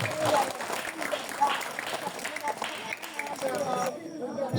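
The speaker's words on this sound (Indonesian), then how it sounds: "Tepuk tangannya Ibu." An audience at a religious study gathering applauds after a sermon's closing, clapping mixed with murmuring voices and crowd chatter, fairly loud and close, then thinning near the end.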